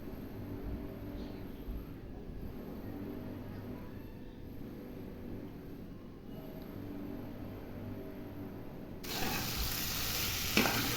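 Paneer coated in spices fries in a pan under a soft, steady sizzle and occasional stirring, and a brighter, louder hiss starts near the end.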